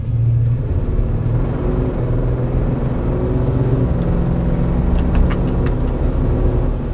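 A 1964 Chevrolet Impala SS engine rumbles steadily from inside the car as it accelerates to about 35 mph, a deep continuous drone with a few faint higher squeaks near the end.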